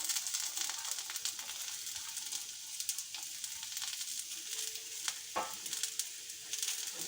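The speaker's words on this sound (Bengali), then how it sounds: "আলুটা হালকা ফ্রাই করে নিয়েছি, এবার আমি একটু গাজর দিয়ে দেবো।" Potatoes and carrots frying in oil in a pan, a steady close hiss and crackle with occasional stirring scrapes and small clicks throughout.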